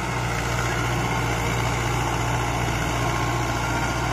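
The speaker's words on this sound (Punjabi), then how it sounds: "ਇਹ Mahindra 555 D I Arjan tractor, 57 horse power tractor ਜੀ ਇਹ" A Mahindra 555 DI Arjun 57-horsepower tractor runs with a 7-foot Shaktiman rotavator, giving a steady, unbroken low diesel drone at constant revs with no voices.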